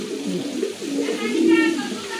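African pigeons cooing up close, low throaty warbling coos rising and falling over about two seconds, with a voice mixed in.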